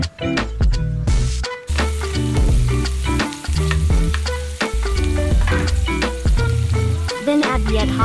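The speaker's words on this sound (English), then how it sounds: "Then add the balunbalunan. Spread it to cook evenly." Chicken gizzards frying in a pan as they cook for a sautéed liver-and-gizzard dish, giving a close, continuous sizzle with tonal sounds running through it.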